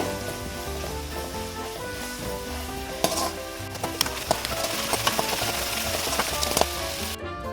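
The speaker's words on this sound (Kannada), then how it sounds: "ಇವಾಗ ಇದಕ್ಕೆ ನಾನು ಶುಂಠಿ ಬೆಳ್ಳುಳ್ಳಿ ಪೇಸ್ಟ್ ಸೇರಿಸ್ತಾ ಇದ್ದೀನಿ ಇದು ಅಷ್ಟೇ ನೀಟಾಗಿ ಈರುಳ್ಳಿ ಜೊತೆ ಫ್ರೈ ಆಗಬೇಕು" Ginger garlic paste frying with onions, on the way to a chicken liver and gundakayi fry, crackles in a continuous close sizzle. Sharp utensil taps and stirring scrapes come through in the second half. No talking.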